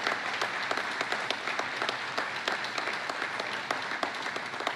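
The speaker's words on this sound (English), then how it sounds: "Give them a big round of applause, will you?" An audience applauds Indiana job creators at a political event, steady sustained clapping from a large crowd with sharp individual claps standing out, heard alone.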